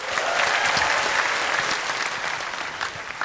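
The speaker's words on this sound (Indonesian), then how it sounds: "Jokowi tepuk tangan dong." Loud, dense applause from a studio audience at a televised talk show, a continuous near wash of clapping with no voices over it.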